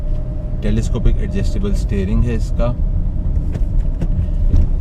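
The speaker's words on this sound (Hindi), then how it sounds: "अब हम ये गाड़ी चला रहे हैं" A 2007 Toyota Allion rolls along on a test drive, its low, steady road and engine rumble running throughout beneath someone speaking inside the cabin.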